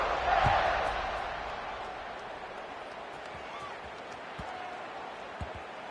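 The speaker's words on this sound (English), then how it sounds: "this crowd is buzzing after that last score" A football stadium crowd buzzes in the distance after a score, a broad steady murmur that swells briefly at the start and then holds at a low level, with a few faint thumps.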